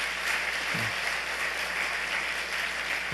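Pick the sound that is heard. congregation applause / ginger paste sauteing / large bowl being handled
congregation applause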